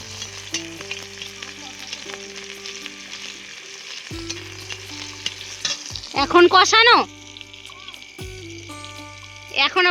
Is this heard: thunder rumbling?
no